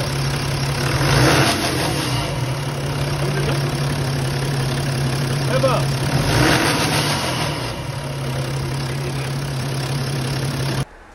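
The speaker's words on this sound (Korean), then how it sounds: "악셀을 밟을 때 꾸럭꾸럭꾸럭꾸럭 하면서 소음이 지금 발생이 되고 있고" A BMW E70 X5 engine idles and is revved a couple of times, with a rough, knocking rattle from a stretched timing chain running through its steady drone and a high whine above it.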